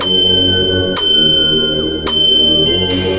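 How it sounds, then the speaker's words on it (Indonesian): A small bell of the kind once tied to a corpse's toe, ringing in a sharp struck ding twice about a second apart over a steady tonal drone, clear and close with no talking. "suara lonceng kecil dulu dipakai di jempol mayat"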